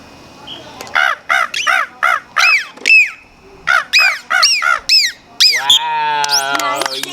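A captive dolphin gives a rapid series of squeaky, rising-and-falling whistle calls that sound like a seagull, loud and close, in separated bursts ending in a longer warbling cry.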